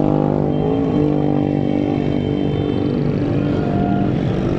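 A procession of roughly 20 to 25 Yamaha YBR 125-type motorcycles rides together on a Pakistani road, their engines blending into a loud, steady, continuous drone with no talking.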